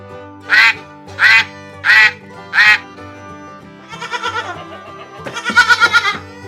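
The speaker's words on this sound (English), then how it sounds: "It's a goat." A farm goat bleating in a wavering, tremulous series of calls after a run of four distinct duck-like quacks, all close and loud with no one talking.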